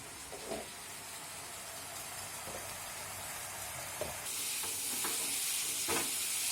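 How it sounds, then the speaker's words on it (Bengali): Spice masala fries and is stirred in a pan, a soft continuous sizzle with occasional scraping strokes, growing slightly louder and hissier partway through. "এবার মশলাটাকে কষিয়ে নেব 3-4 মিনিট।"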